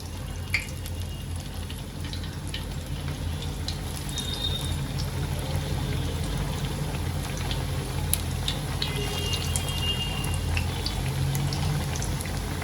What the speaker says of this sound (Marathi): आता आपला तेल गरम झालेला आहे आता एक एक करून मी याच्यामध्ये जी आपली टिक्की आहे ती सोडून घेते